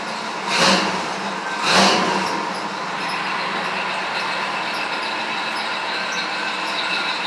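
A 1955 Chevy gasser's cold-started engine runs without the choke, loud and close, with two quick revs early on before it settles into a steady rumbling idle of about 800 RPM.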